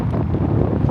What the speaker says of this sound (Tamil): ஆஃப் சைடு காற்று அடிக்குது